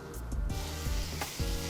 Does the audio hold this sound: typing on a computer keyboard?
no